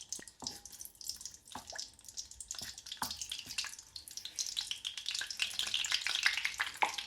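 Two lemongrass sticks sizzling in half a cup of sunflower oil in a pan, faint scattered pops and spits building into a denser, brighter crackle toward the end.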